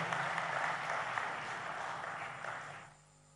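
Crowd applause at a public government ceremony, a faint, steady wash of clapping that fades out toward the end.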